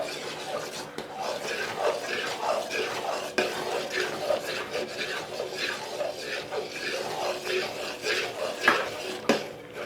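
A spoon stirs a sweet diamond-cuts mixture with ghee in a pan, scraping steadily against the metal in continuous rhythmic strokes, close and moderately loud, with no talking.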